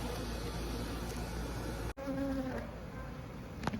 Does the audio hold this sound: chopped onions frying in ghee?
no